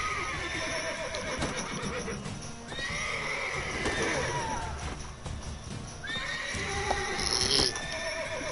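A horse in a video game whinnies and snorts over a busy, continuous background with hoofbeats and crowd-like noise, the neighs rising sharply a few times.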